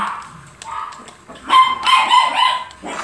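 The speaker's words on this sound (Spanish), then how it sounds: "Otra vez mis perritos comienzan a ladrar" Pet dogs barking in quick, uneven bursts, sharp yips and woofs close by, louder in the middle and trailing off with a final bark.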